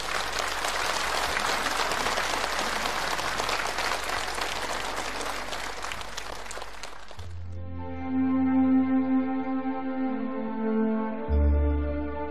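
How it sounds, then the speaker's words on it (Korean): Warm applause from a studio audience at a North Korean television program for International Women's Day, dense and steady for about seven seconds, then cut off as music begins. "다시 한번 열렬한 박수를 보내줍시다"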